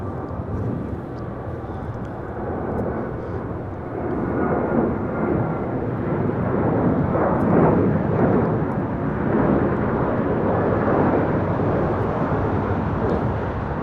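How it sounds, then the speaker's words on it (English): An Air New Zealand Boeing 777-300ER arriving from Auckland at LAX, its broad engine roar rising from a steady rumble to a louder, fuller rush midway and holding close and heavy through the end, with no talk. "Air New Zealand, the 777-300ER coming up from Auckland"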